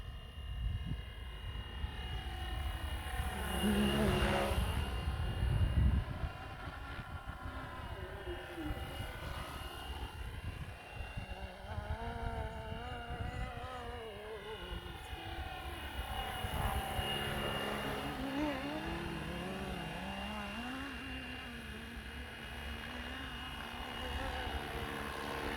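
Flywing Bell 206 RC helicopter flying outdoors, its rotor and motor whine sweeping up and down in pitch as it moves nearer and farther, steady throughout, with some talk in the background.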